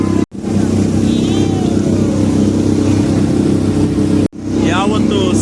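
Motorboat engine droning loud and steady during a lake boat ride at Cubbon Park, Bangalore, with voices talking over it and a brief break in the sound twice.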